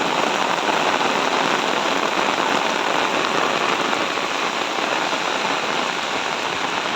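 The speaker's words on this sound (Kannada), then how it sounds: "ಜಲಪಾತ ಥರನೇ ನೀರು ಬರ್ತುಂಟು ಮೇಲ್ಗಡೆಯಿಂದ" Heavy monsoon rain pours down with water cascading from above like a small waterfall, a constant loud hiss of falling water with no breaks and no voices.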